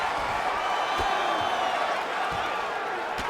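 Arena crowd at an MMA fight between Sean Brady and Rustam Khabilov, a steady roar of murmuring and scattered shouts with a few faint thuds underneath, distant and continuous.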